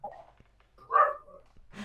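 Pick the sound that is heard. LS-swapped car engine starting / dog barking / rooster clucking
dog barking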